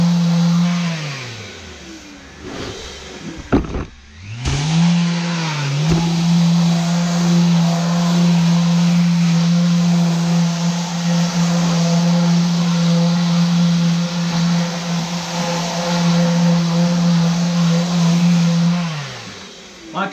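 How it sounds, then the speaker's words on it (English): Mirka Deros electric random-orbit sander denibbing wood with 120 grit Abranet mesh, a steady close motor whine that spins down briefly near the start, then runs evenly and loud for most of the stretch before stopping at the end. "I'm just denibbing it. Make sure there's no splinters. I'm using 120 grit Abranet, and that does the job nicely."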